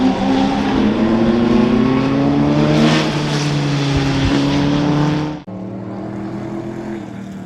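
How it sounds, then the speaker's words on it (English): A Sadler Chevrolet Mark II race car with a V8 engine growls past at the Goodwood 80th Members' Meeting, loud and close with a rich, steady roar that drops sharply as it moves away. "which is growling away with its V8 engine"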